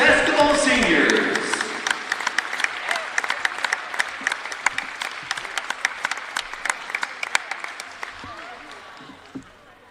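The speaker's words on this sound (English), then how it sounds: "how about a big applause for the 2021 Women's Basketball Seniors" A crowd at a women's basketball senior recognition applauds the 2021 seniors. A loud swell of dense clapping fades into scattered individual claps, with voices underneath and talk near the end.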